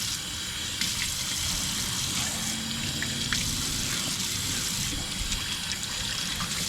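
Tap water runs steadily while a cutting board is rinsed off after cleaning bream, a continuous close splashing hiss with occasional knocks of the board in the sink.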